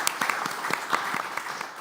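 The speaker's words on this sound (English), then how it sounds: "And the applause." Brief applause from a conference audience after a talk on shipping emissions, a moderate, fairly sparse patter of individual claps heard from a distance.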